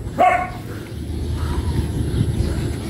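A dog gives a single close, sharp bark near the start, then a low engine-like rumble and outdoor background carry on with no further barks.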